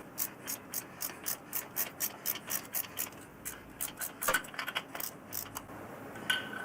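A ratchet clicks steadily with a 7/8 deep well socket while running in a bolt on a Harley-Davidson oil cooler. The close, crisp pawl clicks come in an even rhythm, with a brief pause partway through before they resume.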